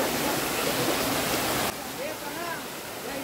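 Heavy rushing water from a monsoon waterfall flowing down into a river near Kolad, Konkan, loud and continuous at first, then abruptly quieter and more distant, with faint voices or tones over the flow.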